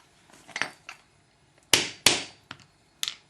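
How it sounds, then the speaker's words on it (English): A hammer taps a split back stud out onto concrete: a handful of sharp, bright metallic clinks and knocks, irregularly spaced and close, with short ringing decay in a quiet room. "tap it out with the hammer onto the concrete, stud in place"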